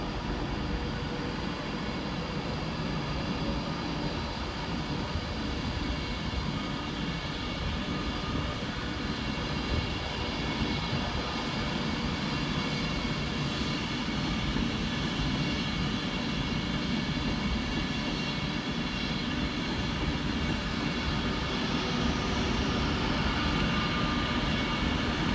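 Avanti West Coast Class 390 unit 390-126 departing Crewe on the Edinburgh Waverley to London Euston service, a sustained electric whine and rumble building steadily, no talk.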